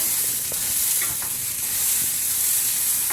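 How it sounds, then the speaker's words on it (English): Steady frying sizzle with soft scraping and clinking as a utensil stirs Mexican rice around a frying pan, close up and continuous. "Let me give this another mix."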